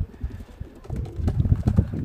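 Racing pigeons, Leo Hermans crossbred birds, coo softly at close range in a loft, several brief low calls rising in a loose rhythm over a quiet background.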